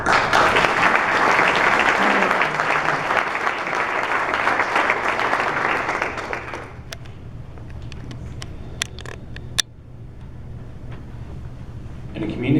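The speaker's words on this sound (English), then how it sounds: "Let us give a big round of applause to the Family Promise of Brevard" An awards ceremony audience gives a round of applause, a dense sustained wash of clapping that fades out after about six seconds, followed by quieter room noise with a few scattered claps and bumps.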